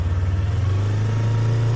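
A motorcycle engine running steadily with the throttle held open, a strong continuous low hum that stays loud and even throughout, with no voices.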